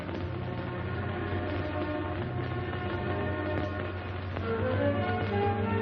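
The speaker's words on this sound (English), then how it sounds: "The subway." A steady low rumble of a subway train running along the tracks, with faint rattling and a rising tonal whine near the end.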